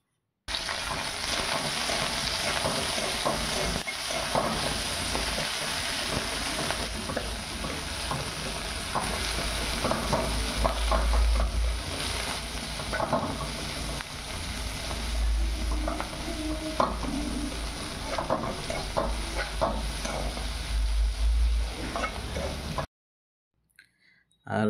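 Onions and chillies frying in a pan, stirred steadily for about 23 seconds with a continuous close sizzle and scraping, then sudden silence; a voice is faintly present.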